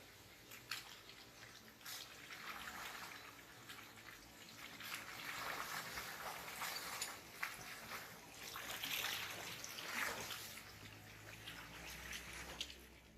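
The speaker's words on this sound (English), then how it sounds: "This was the first of a few creek crossings." Off-road four-wheel-drive vehicle picking its way through a shallow rocky creek, with soft continuous water splashing and trickling under a low, fairly quiet engine rumble.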